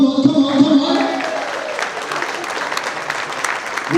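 Audience applause at the St Lucian Achievements Award Ceremony, a steady wash of clapping that follows a voice at the start and stays fairly loud and even to the end.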